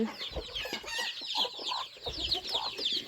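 A flock of farmyard chickens clucks busily and continuously at close range while being fed grain at dusk, overlapping calls filling the whole stretch with no talk.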